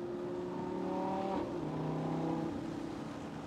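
Lamborghini Gallardo LP570 Performante V10 driving with the top down, a loud continuous engine drone that rises and shifts in pitch as it accelerates, steady and close throughout.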